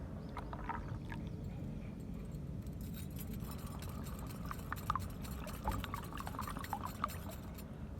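Faint trickling pour of water into a bowl of maize-flour kadhi batter with light clinks and mixing noises, low and steady throughout.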